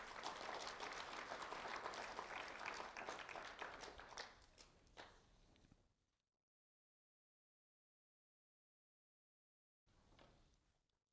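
A crowd at a Do the Right Thing recognition ceremony applauds for a student honoree, steady clapping for about six seconds that tapers off, followed by silence and then a brief, fainter burst of claps.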